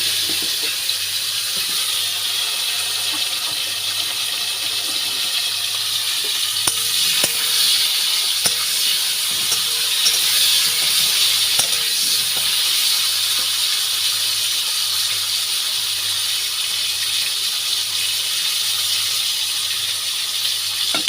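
Pointed gourd (potol) pieces frying in oil in a kadai, a loud, steady hiss of sizzling oil that holds evenly throughout with a few faint clicks.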